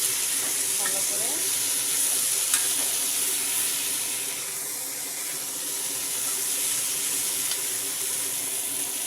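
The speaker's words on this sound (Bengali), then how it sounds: "তার উপরে আমি ছোটো মাছগুলিকে দিয়ে দেবো, চিংড়ি আর চানকিরা মাছ, এগুলিকে দিয়ে অল্প কষিয়ে নেব" Small prawns and chankira fish fry with eggplant in a pan, making a constant bright sizzle with a few soft stirring clicks and scrapes.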